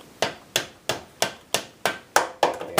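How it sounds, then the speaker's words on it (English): A hammer strikes a screwdriver to tap a part through during a stretched trailing arm install on a Can-Am Outlander 850 ATV, giving eight sharp, evenly spaced metallic knocks that ring briefly, close and loud with no talking. "we're going to get our hammer and screwdriver"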